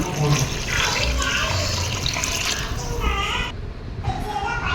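Water pours into a pot of rice for chicken biryani in a home kitchen, a steady splashing fill that stops briefly near the end and then resumes more quietly.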